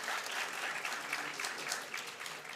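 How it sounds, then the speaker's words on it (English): A crowd claps steadily for a few seconds at a national science quiz competition, a dense even patter of applause heard from a little distance. "a very big round of applause for ISR"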